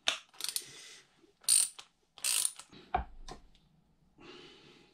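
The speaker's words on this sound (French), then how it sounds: "Et maintenant, on va enlever cette partie-là. Toujours avec notre clé de 24." A 24 mm wrench unscrews a part from a Rock Shox 50H/200H mountain bike fork, giving several close, bursty ratchet clicks with pauses between them, plus a dull knock and a few short scrapes.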